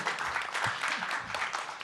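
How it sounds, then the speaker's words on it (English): An audience at a panel on canon formation in digital art gives brief, soft applause, a faint diffuse patter lasting under two seconds. "So yeah, please give her a round of applause too."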